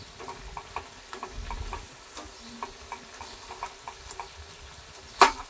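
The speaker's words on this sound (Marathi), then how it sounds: "व्यवस्थित असे फ्राय करून घेऊ।" Dahi vada lentil fritters frying in oil: a soft, steady bubbling sizzle dotted with light ticking pops and a sharper clatter near the end, close and with no voices.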